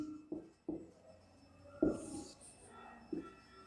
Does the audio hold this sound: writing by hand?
yes